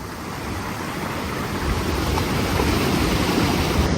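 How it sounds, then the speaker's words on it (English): Waves wash onto a huge, wide, sandy beach in Portugal, a steady broad hiss of surf that swells slightly louder partway through, with no voices. "The beach here is incredibly huge, wonderfully wide and beautifully sandy."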